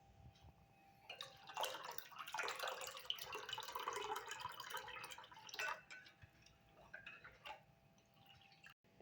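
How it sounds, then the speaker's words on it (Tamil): Water is poured into thick green chutney for pani puri in a bowl, making soft dripping and splashing sounds. The sound is faint, swells for a few seconds and then trails into occasional drips. "நாம் வந்து தண்ணி ஆட் பண்ணணும்."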